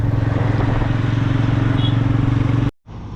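A line of motorbikes travels a road near Gundlupet toward a temple, giving a loud, close, continuous engine rumble with rapid throbbing pulses, cut off abruptly near the end before resuming.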